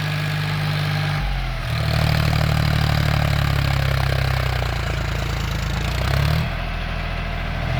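A Mahindra or John Deere tractor engine runs nearby with a cultivator, a steady loud diesel drone that rises for a few seconds and then settles back to idle.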